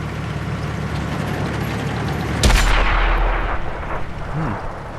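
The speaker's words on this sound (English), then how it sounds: "It's a shot from a friendly tank there." A single heavy tank cannon shot booms out midway in World of Tanks, a sharp loud blast with a rumbling tail fading over the next couple of seconds against steady background battle ambience.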